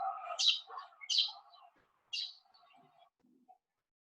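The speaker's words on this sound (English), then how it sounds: "A sparrow chirps." Small songbird, a sparrow, giving three bright chirping bursts spaced about a second apart, fairly close and moderately loud, with a low murmur of background sound beneath and a quiet pause at the end.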